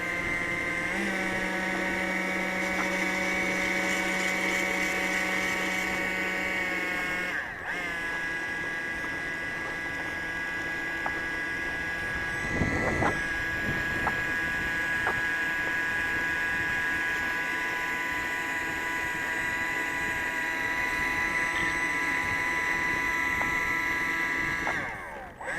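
A Freewing F22 RC jet with a 12-blade electric ducted fan on a Turnigy SK3 1500kv motor and 8S battery whines steadily at a high, slightly grindy pitch for the full length, rising and dipping with throttle changes, heard up close without talk.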